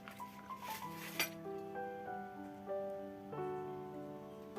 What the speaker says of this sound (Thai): ผัดเครื่องแกงกับกะทิ ให้แตกมันครับ